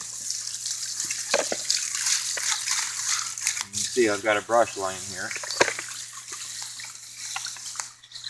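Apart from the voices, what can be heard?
water rinsing out a chicken water dish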